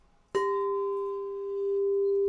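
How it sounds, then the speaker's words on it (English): A 396 Hz singing bowl is struck once and rings out clearly. Its pure sustained tone with faint overtones carries steadily for a couple of seconds, alone and close by. "This is a 396 bowl."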